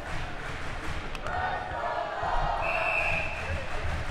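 Crowd at a college ice hockey game between the UNM Lobos and CSM Ore Diggers roars in a steady, swelling wave of cheering and shouting, loudest toward the middle, with a few sharp knocks early on.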